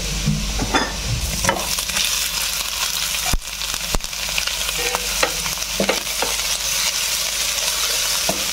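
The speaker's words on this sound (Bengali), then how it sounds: "ব্রাউন কালার হয়ে গেল, এবার আমি শাকটা ঢেলে দেব" Leafy greens poured into hot oil with dried chilli and chopped garlic, then stir-fried: a loud continuous sizzle with sharp spatula knocks and scrapes against the pan, close and steady.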